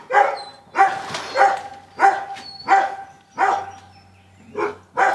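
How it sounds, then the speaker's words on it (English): Several dogs bark in a greenhouse, with about eight loud, close barks coming in a steady, evenly spaced rhythm that dominates the scene. "I hope you can hear me at my dogs. Oh, yeah. Over my dogs."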